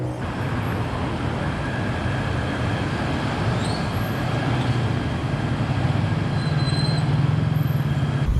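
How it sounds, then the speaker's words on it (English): A train rolls past on the railway line leading to Sentul station in Kuala Lumpur, a loud, continuous rumble of wheels on rails with faint high squeals, building slightly as it nears over several seconds. "And this is the railway line which leads to Sentul station. And here comes a train."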